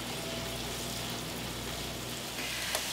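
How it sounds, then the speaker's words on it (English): Onions fry in butter in a pan, a steady close sizzle and crackle that continues without a break and with no talking. "So let's get this frying down."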